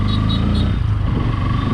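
Bajaj Pulsar N160 motorcycle being ridden without mirrors toward a lake, a steady mid-level engine hum with road noise, running evenly throughout.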